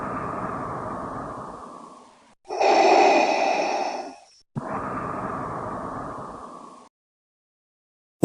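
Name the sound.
Darth Vader breathing sound effect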